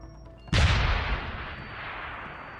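Several mines detonating at once in the Deus Ex video game, a single sudden heavy blast that cuts in loud and close, then a long rumbling decay that stays raised to the end.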